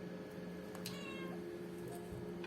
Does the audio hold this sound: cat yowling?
yes